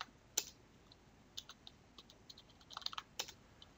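A password is typed on a computer keyboard as a quiet, uneven run of soft key clicks, sparse at first and then quicker toward the end, with no talk.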